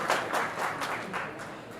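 Scattered clapping from a few people at an interview event welcoming Dr. Sudhanshu Trivedi; sparse, separate claps that thin out and fade over the short span, close and moderately loud.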